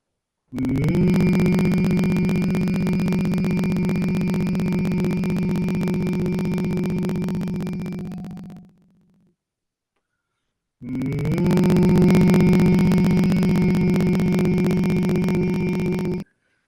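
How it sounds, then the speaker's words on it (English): Human humming for a breathing relaxation technique, two long, steady, loud tones of about eight seconds and five seconds separated by a short pause for breath. "Take a quick breath, let the natural breath happen, and then start the humming again."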